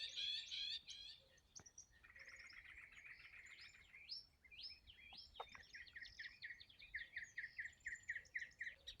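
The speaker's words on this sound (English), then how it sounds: "Just listen to the birds out here right now." Several birds sing outdoors on a Texas ranch in the morning, a busy mix of chirps, trills and repeated whistled notes, with a rhythmic series of phrases toward the end, moderately close and without talk.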